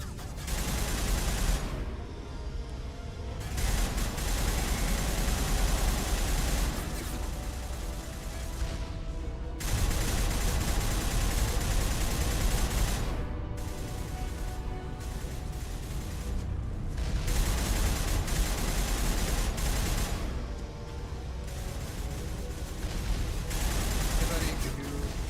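Sustained gunfire from a gun in the video game Mass Effect, long dense bursts of rapid shots with brief pauses between them, loud and close, with a voice speaking over the game action.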